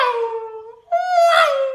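A voice mimics an F1 race car passing, a close, loud tonal whine that slides slightly downward, breaks off briefly, then returns at a lower pitch, like the Doppler drop of a car going past.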